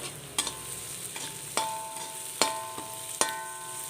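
Shallots and onions frying in a pan with curry leaves added, a steady sizzle broken by several sharp clinks and scrapes of a spoon stirring against the pan, close and fairly quiet with no talk.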